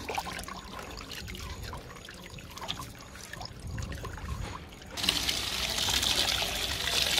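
Running water trickles and splashes as roots of a small herb plant are rinsed by hand, soft at first, then turning into a louder, steady pour partway through.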